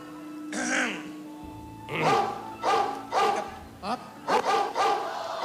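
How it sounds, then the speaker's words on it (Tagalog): Several dogs bark in short bursts, a few sharp yaps close by, with background voices and a steady hum. "Akala mo ba yung mga aso ay nasa farm? Kapitbahay lang."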